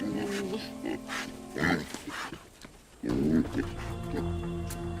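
Pigs on a farm grunt and snort in rough bursts throughout, with a loud cluster of grunts midway, over a steady low background hum.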